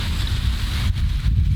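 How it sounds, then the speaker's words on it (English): Strong gusts buffet the microphone beside a riverbank where people are fishing, a loud continuous low roar of wind noise with no voices. "It's super windy down here. It's crazy windy."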